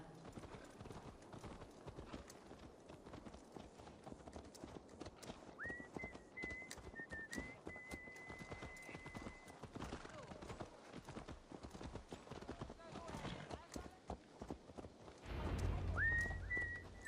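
A horse in Assassin's Creed Valhalla clip-clops along at a steady walking pace, hooves close and distinct, with a whistled musical line over part of it and a low rumble near the end.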